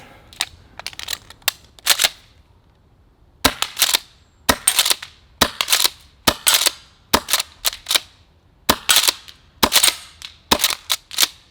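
An airsoft M870 Breacher gas-powered shotgun fires about twenty sharp, loud, close cracks in uneven bursts, with short pauses between groups of shots.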